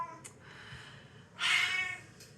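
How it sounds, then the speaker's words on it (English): A pet cat gives a short meow, then a louder, drawn-out cry close by in a quiet room, with a faint brief call before and after. "Kitty's gonna say bye too."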